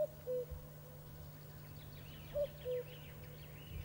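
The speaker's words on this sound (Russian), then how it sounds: "В лесу кукует кукушка." A cuckoo calling in a summer forest, its soft two-note call repeated twice, faint and distant over a steady low hum, with high twittering birdsong in the background.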